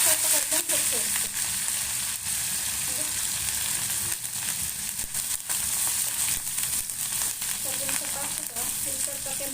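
Mustard seeds, half an onion and curry leaves fry in hot oil for a lentil curry, making a steady, loud, close sizzle with small crackles throughout.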